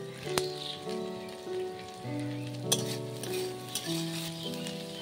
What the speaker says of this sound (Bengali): এবার দিয়ে দেবো লঙ্কা কুচি, হালকা নাড়াচাড়া করে নেব